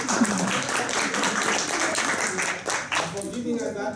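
An audience claps for a speaker at a Toastmasters meeting, a sustained mixed wash of hands heard under someone talking over it, loud and close throughout.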